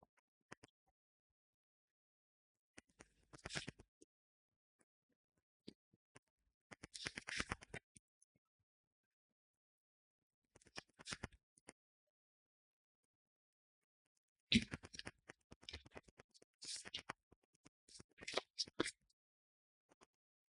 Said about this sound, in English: Let's shuffle 4 more times.